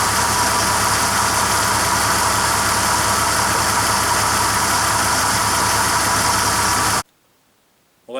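A BMW car engine idles steadily during an automatic gearbox oil fill, a constant loud hum for about seven seconds before cutting abruptly to near silence.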